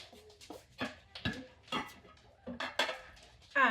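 A dog licks a lid in quick wet laps, each lick followed by light clinks of the lid, close and fairly quiet over several seconds.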